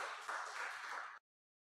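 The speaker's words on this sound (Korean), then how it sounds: "큰 박수로 축하해 주시겠습니다" A church congregation applauds in a dense, steady wash of clapping for a couple being congratulated during a Sunday service, lasting just over a second before cutting off abruptly into silence.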